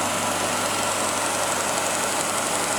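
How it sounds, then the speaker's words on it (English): An old Brown and Sharp cylindrical grinder running with its spindles, producing a steady, loud machine drone with a broad hum and no breaks. "machining parts between centers in a center lathe and in a cylindrical grinder"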